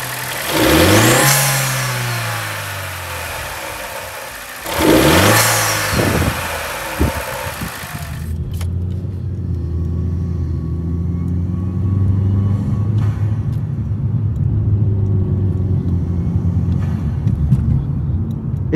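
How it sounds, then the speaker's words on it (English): A stock turbocharged car fitted with a cold air intake revs twice sharply, each rev falling away with a loud blow-off valve whoosh, then settles into a close, rumbling idle. "It's truly amazing how the cold air intake makes the blow-off valve sound so audible."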